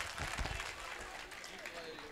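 An audience at a mushaira in Champaran breaks into a brief, dense burst of clapping, heard somewhat distant and soft, with a voice speaking over it.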